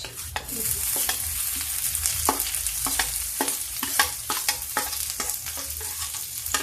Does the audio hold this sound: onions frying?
yes